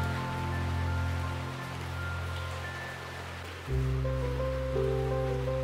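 Rain falls steadily over the parrot enclosures at Taipei Zoo (Muzha), a continuous close hiss over a low droning hum that grows louder partway through, with no talk.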